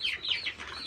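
Kuchinsky breed chickens giving short, bright clucks and squawks close by, a few quick calls in under a second.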